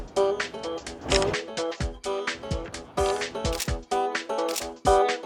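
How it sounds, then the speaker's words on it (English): Repeated smartphone camera shutter clicks fired remotely by the Bluetooth button on a Synco Xview M4 mobile monitor, about ten crisp, close shots in an uneven rhythm. "So I can use the first button here, the shutter button, to take a photo."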